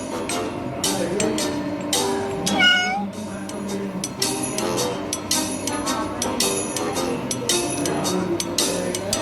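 Cartoonish cat meows from the mobile game Cat Escape, repeated sharp mews over bright game music and effects, loud and close, with faint talk in the background.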